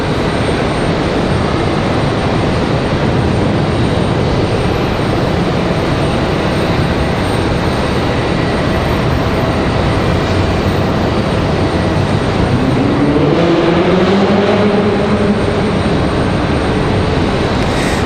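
A Sun Country Airlines airliner arriving at Raleigh-Durham airport from Wilmington, a loud continuous engine roar throughout with a rising whine near the end, no talking.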